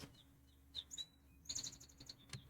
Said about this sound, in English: It's nice to listen to the birds.